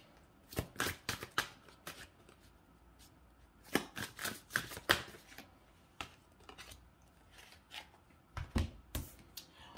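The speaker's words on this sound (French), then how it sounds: "on va tirer les cartes de tarot." Tarot cards are shuffled by hand in quick riffled bursts, soft papery slaps and flutters coming in clusters with short pauses between, close and quiet, with no talking over them.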